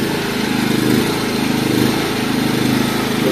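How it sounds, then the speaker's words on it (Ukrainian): A Kamastsu petrol generator runs with no load, a loud, close, steady engine drone with a slightly uneven, pulsing rhythm throughout. "генератор завівся без проблем."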